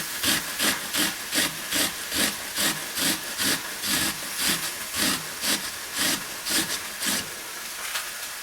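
Half of a small onion is grated by hand for squash fritters, giving steady rhythmic scraping strokes, roughly a dozen evenly spaced rasps, close and moderately loud with no talking.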